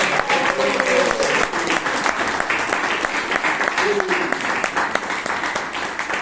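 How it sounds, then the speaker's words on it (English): Audience applause fills a Toastmasters club meeting in Bangalore, dense steady clapping from a roomful of people, with faint voices mixed in underneath. "Everyone, please give him a huge round of applause."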